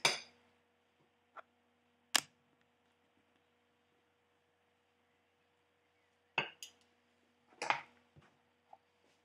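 Meat filling spooned into meat pie dough: a few sharp, isolated clinks of a spoon against a bowl, spaced apart over near silence and a faint steady hum.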